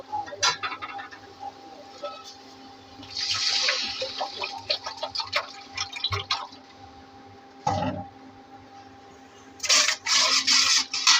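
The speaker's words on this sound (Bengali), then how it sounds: "এখন পানি দেব।" Water is poured into a cooking pot over fried ginger, garlic and green chillies in a shol fish and bottle gourd curry, with intermittent splashing bursts and drips close by, separated by quieter gaps.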